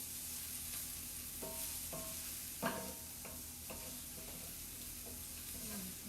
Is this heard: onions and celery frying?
yes